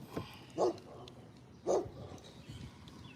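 A dog barks twice, about a second apart, close and fairly loud, with someone talking quietly between the barks outdoors during a kayak fishing outing.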